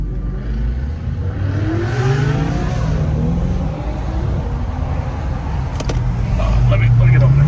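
Loud cars revving on a street at night in Bellmore, engines droning and surging steadily throughout, with a brief sharper burst near the end.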